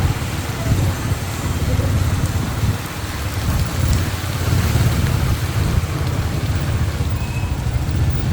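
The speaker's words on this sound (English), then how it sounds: "It's raining cats and dogs." Heavy rain falls outdoors near a hotel, a dense steady hiss of drops on surfaces with a low rumble underneath, continuous and fairly close.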